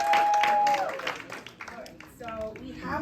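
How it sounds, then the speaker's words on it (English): Audience applause for panelists at a father panel event, short and moderate, mixed with voices and fading within about three seconds. "So again, a round of applause for all our panelists."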